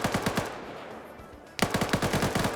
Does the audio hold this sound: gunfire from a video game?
yes